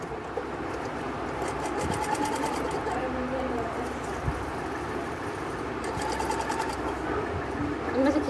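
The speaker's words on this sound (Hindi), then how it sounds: "अब ये जो सिलाई मैं लगा रहा हूँ" An electric sewing machine runs steadily throughout, stitching dori piping onto a blouse seam, its motor hum continuous and close with small variations in pace; a faint background voice or ambient noise sits underneath.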